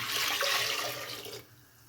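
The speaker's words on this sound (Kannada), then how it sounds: "ಈಗ ಒಂಚೂರು ನೀರು ಹಾಕ್ತಾಯಿದ್ದೀನಿ" Water poured into a pressure cooker over washed toor dal and two large tomatoes, a steady splashing rush that runs for over a second, then drops away to a faint trickle.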